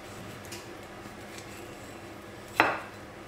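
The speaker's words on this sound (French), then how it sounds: "on coupe l'avocat." A knife cutting an avocado in a kitchen, a few soft taps followed by one sharper clack of the blade against the board, close and quiet with no voices.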